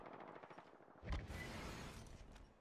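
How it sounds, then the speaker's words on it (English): Rapid gunfire rattles in a round of the video game Apex Legends, a fairly faint burst of shots followed by a louder cluster of shots, with no talk over it. "I hear shooting."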